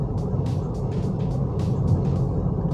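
A 2010 Toyota Vios Limo, a former taxi, cruises at about 40 km/h in third gear, heard from inside as a steady low engine and road rumble with soft whooshing swells of wind and passing traffic.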